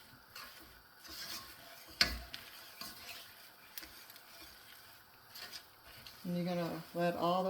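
A cheese and spinach mixture, Monterey Jack or mozzarella with spinach, is stirred in a pan with soft scraping and faint sizzling, a sharp clink partway through, and a voice speaking briefly near the end.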